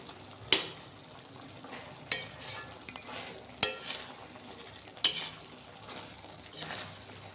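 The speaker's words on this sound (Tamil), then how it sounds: "இப்போ இது கூட நல்லா சேர்த்து நசுக்கி விட்டுக்கலாம்" Road-side style mushroom masala stirred and mashed in a pan, a spoon striking the metal in sharp clinks roughly every second, with soft scraping and faint sizzling between the hits, close and fairly quiet.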